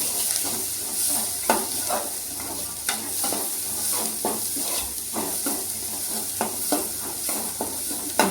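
Asafoetida and ginger tempering in hot oil in a pan, a steady close sizzle broken by repeated scraping stirs at an irregular rhythm, with no talk.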